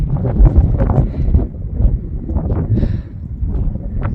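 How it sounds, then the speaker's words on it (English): Strong wind on an exposed moor buffets the microphone with low, rumbling gusts that rise and fall continuously, loud and close, with no voices. "you can feel it now because it's windy as hell"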